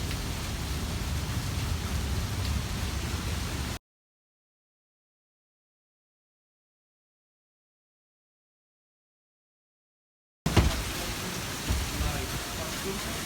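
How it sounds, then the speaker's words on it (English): Florida rainstorm with a steady rushing patter of heavy rain, cut by a long stretch of silence before the downpour sound returns with a few louder splashes. "Florida rainstorm."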